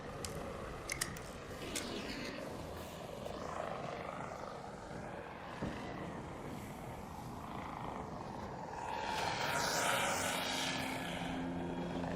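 A Hornet flying drone in the video game ARC Raiders hums and whirs with a propeller-like buzz, running continuously and growing louder toward the end, with scattered game noises around it.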